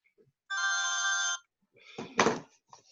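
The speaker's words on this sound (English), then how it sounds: "I've got to turn my phone off here" A mobile phone rings with one steady electronic tone of almost a second, loud and close, and then someone speaks briefly as he turns it off.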